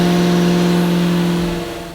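A 1965 Ford Mustang engine revs loudly on a dyno, a steady held drone with strong harmonics that eases down slightly near the end.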